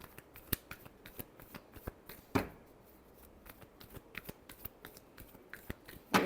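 Tarot cards are shuffled by hand, a run of crisp, irregular riffling snaps and flicks, close and alone, with a few louder slaps.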